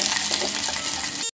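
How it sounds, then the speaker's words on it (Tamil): Cashews and raisins frying in ghee in a pan for semiya payasam, a steady close sizzle and crackle that runs without a break for just over a second and then cuts off. "ஃபஸ்ட்டு முந்திரியை வறுத்துக்கலாம், அப்புறமா கொஞ்சம் திராட்சையை போட்டுக்கலாம்."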